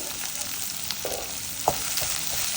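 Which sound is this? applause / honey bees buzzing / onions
onions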